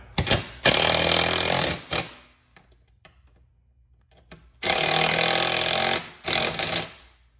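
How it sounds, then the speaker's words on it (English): An 8mm socket on a power driver tightens screws holding the condenser to the radiator of a Fiat 500 Abarth, two loud close bursts of buzzing rattle, each about a second and a half long, with quiet gaps between. "we're gonna take our 8mm socket to tighten them down"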